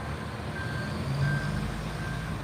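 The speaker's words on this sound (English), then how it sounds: "It's a big drilling vehicle." A big drilling truck sounds its reversing alarm on a quiet town street in the evening: a high, evenly spaced beep that repeats three times over a low, steady engine rumble.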